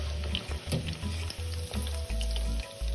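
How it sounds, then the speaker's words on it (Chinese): Quail eggs deep-fry in a shallow layer of oil with a steady crackling sizzle, broken by short pauses and low bumps as the pan or eggs are moved. "油量有点不够，鹌鹑蛋油炸的不是太完美"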